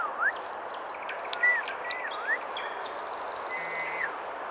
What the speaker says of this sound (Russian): Где-то здесь есть птичка.